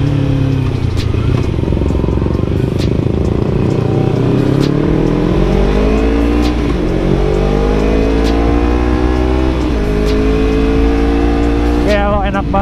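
A Kawasaki Ninja 250 FI motorcycle revs up through its exhaust, the engine note sweeping up and down in pitch during a close, loud ride, with a voice talking over it.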